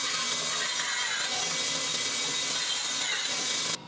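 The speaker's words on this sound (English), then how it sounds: "Then cut them down into more manageable pieces on the little bandsaw." A small bandsaw cuts through thick pine boards, giving a steady, loud whirring rasp with no breaks that drops off sharply near the end.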